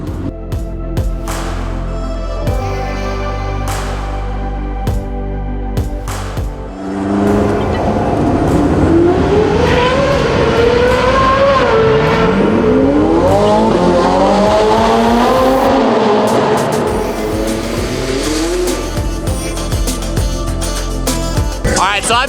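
Cars racing at Auto Club Speedway, engines roaring loud and close with rising and falling revs and tire squeals over a constant mechanical drone, with talking heard in places.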